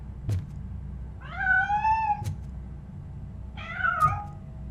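A cat meowing in the RoboCop: Rogue City video game, two clear rising-and-falling meows close by, with soft ticking thuds between them and no talking.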